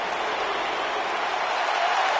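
Steady, dense crowd applause fills a wrestling arena in the WWE 2K19 video game, an even roar of clapping throughout.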